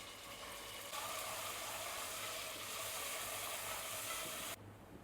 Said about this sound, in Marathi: तेल या बुटल्यामध्ये आता टाकते आहे टमॅटो मिरची कांद्याचा पेस्ट